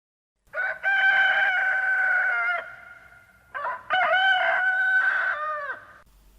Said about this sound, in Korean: 사방에서 닭 울음소리가 들리고